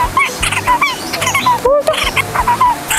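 Takur bultok barbet calling outdoors, repeated short hollow tonal notes at a steady pace against a busy background of other birds and insects, moderately close and clear.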